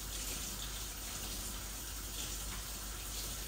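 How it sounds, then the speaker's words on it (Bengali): Orange peels rinsed under a running kitchen tap, a steady faint stream of water splashing continuously without pause. "আমি ছিলকাগুলো ভালো করে পরিষ্কার করে ধুয়ে নিচ্ছি"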